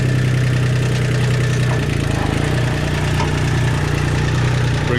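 A tractor engine idles loudly and close by with a steady low rumble, and its throb turns more pulsing partway through.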